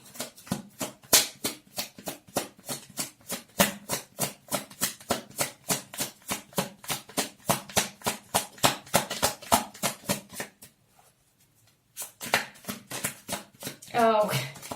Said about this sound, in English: I saw that when I was shuffling